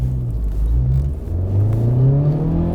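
New Honda Civic Type R hot hatch accelerating hard, its engine note climbing steadily in pitch under a deep rumble, heard close and loud from inside with no talking.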